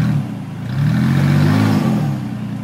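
A stuck prerunner truck's engine revs steadily and loudly with a low, droning roar, the pitch swelling and then easing off while the driver holds the gas.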